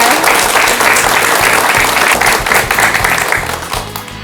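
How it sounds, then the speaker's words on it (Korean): A live audience at a Buddhist talk show applauds warmly after a monk's talk, a dense steady clapping that fills the whole span and tapers slightly at the end. "여러분 큰 박수 부탁드립니다"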